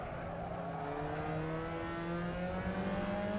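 A race car engine in the Assetto Corsa racing game hums and climbs steadily in pitch under acceleration, with a smooth, continuous tone that rises across the whole stretch and no voices.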